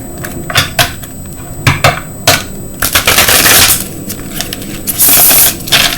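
A large 145-card tarot deck is handled and shuffled in piles in bursts, with crisp clicks and slapping riffles close up, getting denser toward the end.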